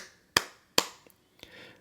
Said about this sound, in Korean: 그 예를 들어 제가 박수를 쳤어요.